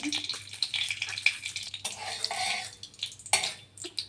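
A small pinch of panch phoron spices crackles in hot oil in a pan, giving a close, bright hiss with irregular pops and a few light stirring taps.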